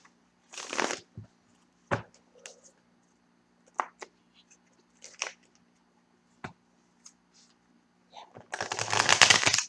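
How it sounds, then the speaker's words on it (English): A tarot deck being shuffled in short separate bursts of riffling card noise with quiet gaps between, ending in a louder, longer flurry of shuffling, close by with no talk. "2 more shuffles."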